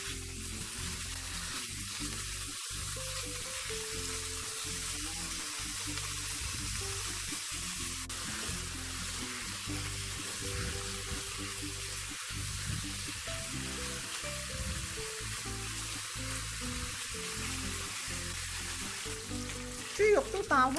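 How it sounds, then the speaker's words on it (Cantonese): Pork stir-frying in a pan for a spicy kimchi and tofu hot pot; a steady, even sizzle continues throughout over background music, with a few clattering stirs near the end. "我哋先爆香啲豬肉。"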